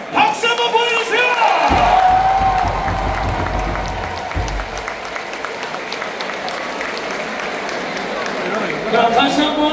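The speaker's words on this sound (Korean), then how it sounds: "박수 한번 보여주세요!" Large crowd applauding and cheering at a baseball stadium during a Lotte game, a broad sustained roar of clapping and voices held for the whole stretch, with an announcer's voice over it.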